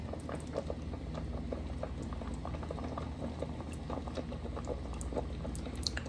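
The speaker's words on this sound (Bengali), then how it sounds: "বলক চলে এসেছে, আমি এখন লো হিটে হালকা ঢেকে রেখে দিব" A pot of beef curry with shatkora bubbling at a steady boil, with a dense patter of small pops and gurgles close by, no voices.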